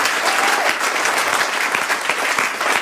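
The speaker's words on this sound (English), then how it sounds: "You want to give the corresponding applause?" Close, loud audience applause following a presentation at an event, brisk overlapping hand claps with slight surges, filling the whole stretch without any talk.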